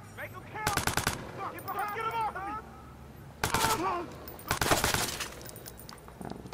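Automatic gunfire from a favorite weapon in the Watch Dogs video game comes in several loud, rapid bursts separated by short pauses, with a voice speaking between them.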